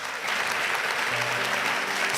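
A church congregation applauds during a celebration service, a dense, steady wash of many hands clapping at close range that continues without a break, with a faint voice underneath.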